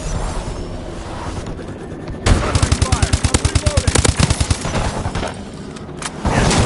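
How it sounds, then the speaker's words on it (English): Rapid automatic gunfire in Call of Duty Advanced Warfare, a loud sustained burst of evenly spaced shots lasting a few seconds, with other distant battle noise around it. "Suppressing fire."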